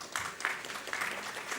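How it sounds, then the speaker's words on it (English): Applause from a conference audience welcoming a moderator at an art programme launch at an airport, a steady wash of many hands clapping at moderate volume, without voices. "please, a big round of applause for our moderator"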